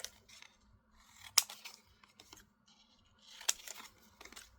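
Scissors snip and trim a printed paper image for a craft tag, with a few crisp close cuts and soft paper rustling in between, fairly quiet overall.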